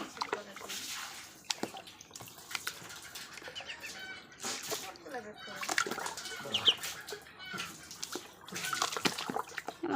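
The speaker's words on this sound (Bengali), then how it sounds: "আমার চীনা হাঁসের বাচ্চা অনেকদিন পর আজকে গোসল করাই দিচ্ছি" A Chinese duckling being bathed in water, with irregular splashing and sloshing plus quick bursts of flapping wings, fairly close and moderately loud.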